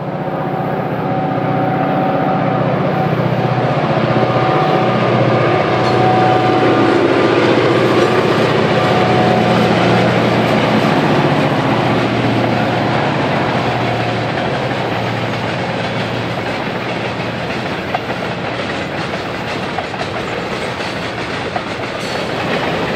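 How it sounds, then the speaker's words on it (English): Two EMD diesel locomotives, one a former Norfolk Southern high-nose unit built in 1976, pulling a heavy CF&E manifest freight train out of town, a loud sustained engine roar with rising rail clatter, steady and close. "Two EMDs are giving it all they've got to get their heavy train moving out of town."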